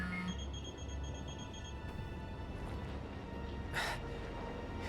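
A phone rings in Final Fantasy XV as a quick series of repeated electronic beeping tones for under two seconds, then stops. Faint background noise and a brief breathy sound follow.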